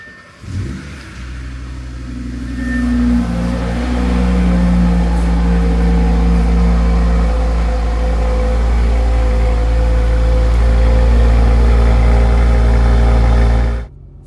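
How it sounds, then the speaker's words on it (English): An Audi RS3 cold-starts with a sharp starter whir and a quick rev flare, then settles into a loud, steady, deep idle drone that runs for over ten seconds before cutting off abruptly. "Cold start in the RS3."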